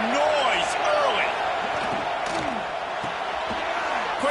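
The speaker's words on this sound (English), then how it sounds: "This crowd bringing the energy and noise early." A stadium crowd roars at a football video game match, a dense, loud, continuous wash of cheering with rising whistles and swells, commentary voices talking over it.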